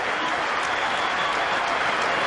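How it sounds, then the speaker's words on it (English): A cricket crowd in the Sharjah stadium gives a standing ovation during a 1999 India versus Pakistan Coca-Cola Cup match, a continuous roar of applause and cheering that stays loud and even throughout, heard from a distance as a broad wash. "Getting a standing ovation from the crowd here in Sharjah."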